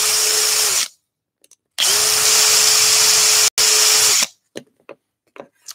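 A power drill whines loudly in two long bursts through wood, with a brief break between them, followed by a few light knocks and scrapes, drilling a mini skateboard deck.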